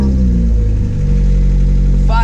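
A swapped engine in a 1992-96 Honda Prelude, its exhaust not fully hooked up, catches and fires up, then settles into a loud, steady close-up idle while a voice briefly speaks over it.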